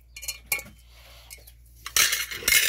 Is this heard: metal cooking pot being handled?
yes